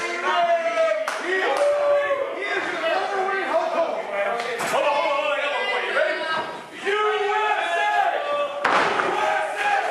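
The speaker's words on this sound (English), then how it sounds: "Ronnie Ribbs getting this crowd on the side of the USA." A wrestling crowd at an independent pro wrestling show chants in rhythmic bursts with clapping, loud and close, repeated several times with short pauses between chants.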